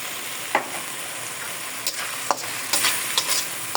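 Chayote and carrots sautéing in a pan with fish sauce, giving a steady close sizzle broken by several sharp clicks and scrapes of a spoon stirring against the pan.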